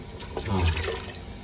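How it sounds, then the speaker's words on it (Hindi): Water splashes and gurgles as it is poured into a pot of lentils for pressure cooking haleem, a short close burst that swells midway then eases off. "इसमें अब डालते हैं पानी"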